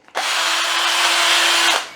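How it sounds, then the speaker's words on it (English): A power drill runs at a wall shelf installation, a steady, close, high-pitched whirr that starts abruptly, holds evenly for about a second and a half, then winds down, with no other sounds. "and a drill"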